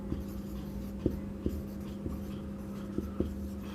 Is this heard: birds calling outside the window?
no